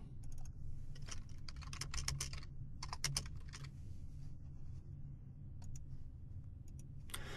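Quick bursts of typing on a computer keyboard, clattering keystrokes in uneven runs separated by brief pauses, close and fairly quiet.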